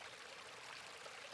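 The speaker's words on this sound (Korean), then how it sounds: "오른쪽에서 물소리가 들리고 있거든요" A mountain stream in an autumn valley lined with white birch and maple trees flows with a steady, soft broadband rush. The water sound is continuous and even, heard from nearby but fairly quiet, with no voices.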